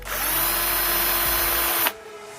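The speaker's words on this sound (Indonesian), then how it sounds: "Untuk putarannya di bor ini saya sudah menggunakan yang paling kencang." Power drill spinning at its highest speed in mode 2, a loud steady high-pitched whine that cuts off abruptly near the end, leaving quiet.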